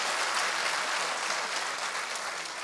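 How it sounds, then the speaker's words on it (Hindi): An audience at an all-India mushaira poetry gathering in Jaipur applauds in a dense, sustained wash of clapping that fades slightly toward the end, with no voices over it. "मैं एक बार तालियां आदिल रशीद के लिए जी।"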